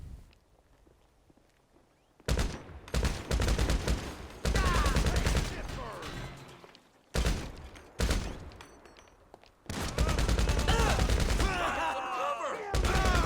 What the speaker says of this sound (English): It's those sawed-off shotguns that are giving me trouble.